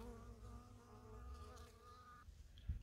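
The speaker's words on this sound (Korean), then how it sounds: "오, 벌이 너무 커." A large bee buzzes around zucchini squash flowers in a Hwacheon garden, its droning hum close and steady for about two seconds before cutting off, followed by a few soft knocks.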